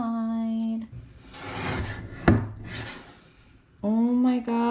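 A Dahle 545 guillotine paper cutter slices through a clamped stack of paper with a single rasping, scraping stroke and a sharp thunk, between stretches of a voice.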